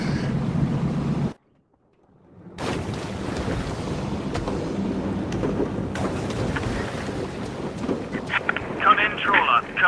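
A storm in the VR video game A Fisherman's Tale brings gusting wind and rumbling sea around a fishing boat. A brief silence breaks the noise before the roar returns with rising bursts, and a voice speaks at the start.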